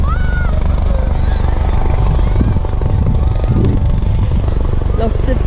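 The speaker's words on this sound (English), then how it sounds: "There's the helicopter landing." A loud, steady rotor and engine drone from a nearby landing helicopter, with voices speaking faintly underneath and a brief high whine.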